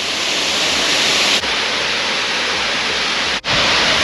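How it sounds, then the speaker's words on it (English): A massive waterfall near Scarborough roars as a dense, constant wash of broadband noise, loud and close, with only brief dips. "It's a massive waterfall."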